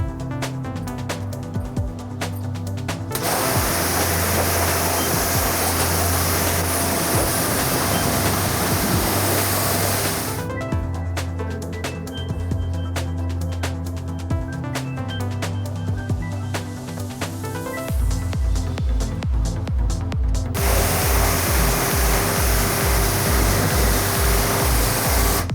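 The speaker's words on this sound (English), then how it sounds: "We're going to give it a thorough wash because only then will we know the real state of the paintwork." Water spray washing the grimy, mold-covered paintwork of an abandoned VW Golf, a steady loud hiss of jetting water that runs almost continuously and shifts in intensity as the spray moves across the panels, with no talking.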